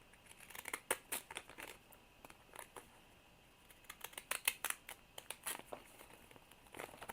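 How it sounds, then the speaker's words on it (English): Stamp scissors snipping through magazine paper, a quiet close series of crisp, irregular cutting clicks and crinkles arriving in small clusters with short pauses between them. "I'm going to cut with my stamp scissors"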